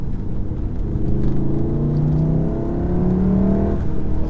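A 2015 VW Golf R's engine pulls hard while driving on tight, twisty roads, its close, loud rumbling tone climbing steadily in pitch through the rev range, with no talk over it.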